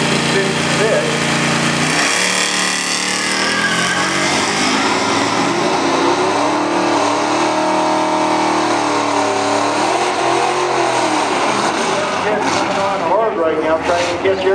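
Custom cars drag racing at the Rocky Mountain Cummins truck fest, including an '03 Chevy Trailblazer, with a loud, steady engine roar and rising revs that dominate throughout, while an announcer talks over the noise.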